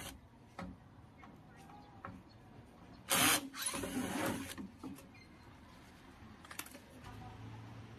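A screwdriver backs out the screws that hold the start capacitor beside a washing machine motor, giving short rattling, scraping mechanical bursts near the middle over a quiet workshop background.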